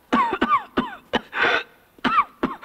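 A person coughing in a harsh, wet burst pattern, several rapid coughs followed by a longer rasping one and more coughs, close and loud with no other sound.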